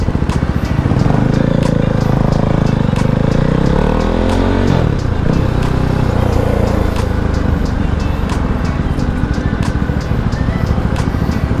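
Husqvarna Svartpilen 401 motorcycle on a ride: a loud, close single-cylinder engine that drones steadily and revs with rising pitch through gear changes, with wind rush throughout.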